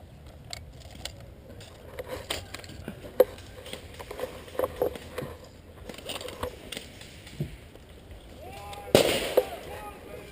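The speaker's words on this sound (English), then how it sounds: "Grenade." An airsoft grenade goes off outdoors during a game: one sharp, loud burst near the end, after scattered clicks, footsteps and voices.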